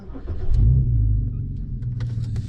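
An old car's engine runs loud nearby, a deep low rumble that swells up heavily then settles to a rough, steady idle, with no talk over it.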